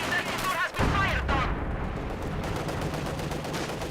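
A railway artillery barrage in Company of Heroes 2 rumbles with heavy booming blasts and a dense crackle of explosions, loud and continuous, with a voice talking briefly over the opening moment.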